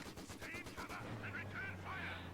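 Machine gun fire in a World War Two strategy video game, bursts of rapid rattling shots at moderate distance over a low engine hum, with a few sharper cracks between them.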